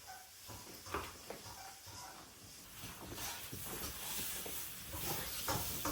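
A pan of king oyster mushrooms and eggs stir-frying hisses and sizzles steadily at close range, with scraping stirs rising and falling through the sustained frying noise.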